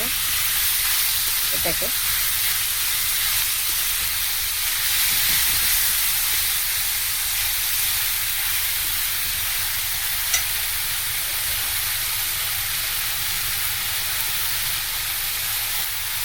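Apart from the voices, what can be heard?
food frying in a pan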